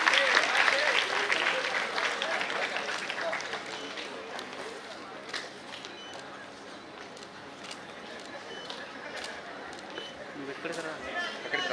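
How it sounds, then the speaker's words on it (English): Applause from the audience at a college award ceremony starts loud and dense, then thins gradually to scattered claps and rises again near the end, with some crowd noise underneath. "give them a big round of applause."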